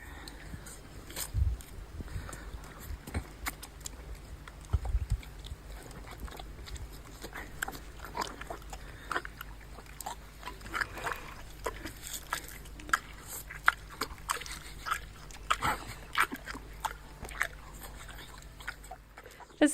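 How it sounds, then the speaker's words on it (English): A donkey slurping and lapping at wine outdoors, irregular wet licking and smacking-lip sounds close by, with scattered small knocks and faint background noise. "the donkey tried to drink our wine."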